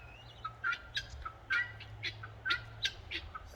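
Guinea fowl calling on a farm, giving repeated harsh, rhythmic chattering cries at moderate distance over a low background hum, with no one speaking.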